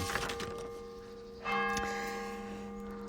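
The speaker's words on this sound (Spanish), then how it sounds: "ya están aquí las campanas, perdonad, podría haber esperado a que sonaran las 6, tenemos a 6 campanadas aquí" Church bells ringing the hour with six strokes, sounding as sustained, overlapping tones that swell again with a fresh strike midway and then fade, with no talking.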